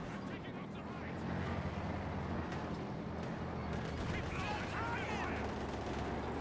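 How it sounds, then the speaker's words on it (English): An LMG firing during a Company of Heroes 2 match, with dense overlapping gunfire and battle noise running steadily throughout, fairly loud and continuous, mixed with other game sounds. "And just look at how far that LMG is shooting."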